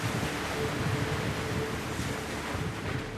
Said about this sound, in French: les vagues s'écrasent aussi sur une barrière géante en béton